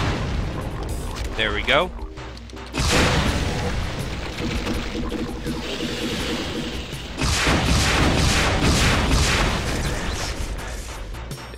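Rocket blasts in Brutal Doom 2 boom repeatedly and loudly, with heavy bursts and gunfire-like crashes over a dense, chaotic combat din; someone speaks briefly amid the noise.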